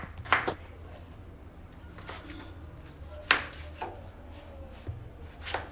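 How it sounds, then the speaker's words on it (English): Knife chopping tomatoes roughly on a board, a few sharp separate cuts spread irregularly with quiet pauses between them, close by. "we cut our tomatoes"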